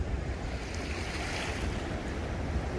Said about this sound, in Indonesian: Juga terjadi banjir bandang ini di sungainya.